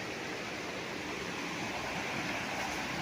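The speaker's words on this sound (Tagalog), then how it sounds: "So ito yung ilog na karugtong nung katabi ng property mga kapraps." A river flows beside a farm lot in Real, Quezon, a steady broadband rushing wash that stays even and moderately faint throughout, with no voices.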